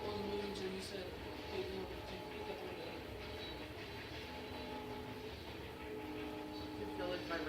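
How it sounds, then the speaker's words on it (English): A passing train rumbles through a building, a steady low vibration with faint clatter that carries through the whole stretch while a voice speaks quietly over it. "You can feel the vibration of the train in the floor."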